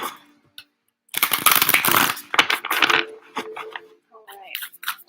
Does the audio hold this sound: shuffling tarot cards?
yes